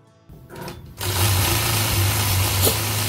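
A sewing machine runs steadily while quilting a block with a ruler, its close, even motor whir and needle chatter starting after a brief quiet moment and continuing without pause.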